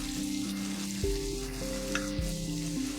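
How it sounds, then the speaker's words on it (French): Tomato slices fry over lowered heat in a pan with garlic, giving a steady gentle sizzle that runs throughout beneath sustained background music, with no speech. "je vais déjà mettre ici quelques rondelles de tomates avec une au centre. Je vais baisser le feu et laisser cette tomate dorer un peu de ce côté."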